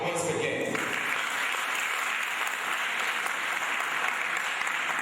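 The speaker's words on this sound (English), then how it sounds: "So clap her once again." An audience at a first graduation ceremony claps steadily. The dense applause holds an even level for the whole stretch and no voices are heard over it.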